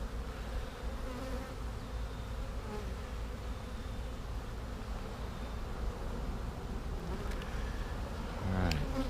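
Honey bees buzz steadily and close at an open hive frame heavy with capped honey, with a soft rustle of handling near the end.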